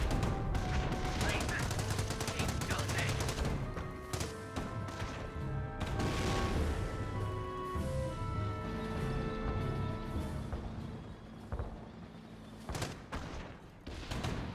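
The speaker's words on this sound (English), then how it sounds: "Panthers firing away. Does explode there." Panther tanks fire their main guns in the World War II strategy game Company of Heroes, with repeated sharp blasts and rattling gunfire in a dense battle mix, and someone commentates over it.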